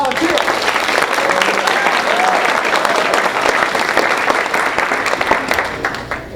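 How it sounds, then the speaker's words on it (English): Loud, sustained audience applause for volunteers at a college hypnosis show, a dense, even roar of clapping hands lasting several seconds with a faint voice briefly audible early on. "let's give a round of applause to all of our volunteers"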